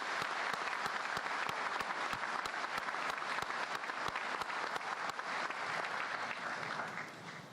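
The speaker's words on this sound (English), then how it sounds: "Let's give your supporters a round of applause." At the Wittenberg University 2023 commencement, the audience gives a sustained round of applause for the graduates' supporters, dense hand-clapping filling the hall steadily before easing slightly at the end.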